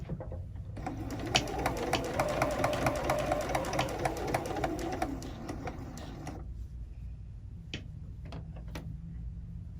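A sewing machine stitches a binding onto a quilt in a rapid, steady run of close ticking needle strokes. It stops abruptly, followed by a few isolated clicks as the stitch is back tacked.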